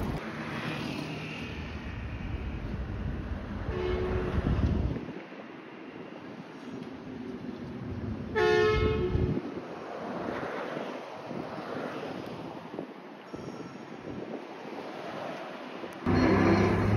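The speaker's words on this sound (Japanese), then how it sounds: "今天王寺駅前に入ってまいりました" A Hankai Tramway tram pulling into the Tennoji-ekimae stop in Osaka, with low rumbling and rolling noise, brief bell-like tones and wind across the microphone, fairly close with no talk.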